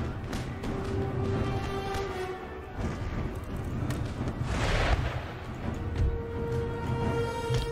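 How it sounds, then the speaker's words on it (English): Mortar fire in Empire: Total War, a series of dull booming thumps over a constant battle rumble, one heavier burst midway, moderately loud with no talk. "But there go the mortars."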